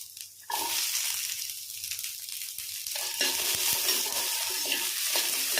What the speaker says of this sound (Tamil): இஞ்சி பூண்டு பச்சை மிளகா சின்ன வெங்காயம் இது எல்லாத்தையும் நல்லா வதக்கி எடுத்துக்கணுங்க